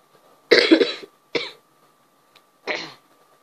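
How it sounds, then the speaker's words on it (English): Three separate coughs from a video game character: a loud, rough burst first, then two shorter, weaker coughs after pauses, close to the listener. "I got to cough now."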